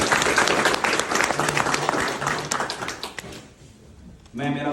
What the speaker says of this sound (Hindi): सबसे पहले मैं एक बार जोरदार तालियां बजाकर सर का अभिनंदन करना चाहूंगा।